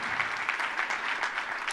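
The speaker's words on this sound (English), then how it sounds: "can we just do a quick round of applause for those folks?" A church audience gives a quick round of applause, a dense, steady patter of clapping at moderate volume from start to finish with no talk over it.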